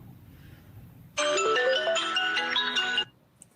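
A phone ringtone from an incoming call plays loud and close as a bright, steady melodic tune for about two seconds, cutting off abruptly, with faint room noise before it.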